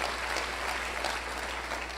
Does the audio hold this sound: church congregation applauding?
yes